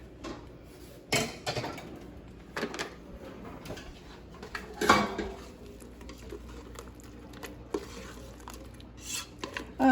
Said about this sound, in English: I'm going to put the filling in the crust here.